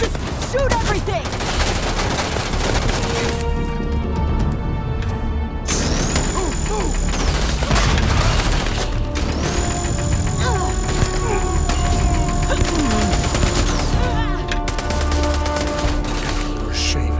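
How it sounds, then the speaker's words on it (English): Rapid, sustained gunfire from the video game Starfield, dense bursts and overlapping shots filling the whole stretch, loud and close with electronic game tones running underneath. "Just shoot everything!"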